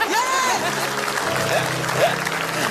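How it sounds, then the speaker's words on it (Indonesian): An audience at an Indonesian comedy club show breaks into brief applause mixed with lively voices and whoops, a short, busy burst of clapping under chatter. "Tepuk tangan dong"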